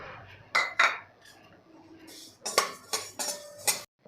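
Spatula scraping and clinking against a pan as cumin seeds dry-roast, with several sharp metallic clatters spaced irregularly, close and moderately loud, and no talk.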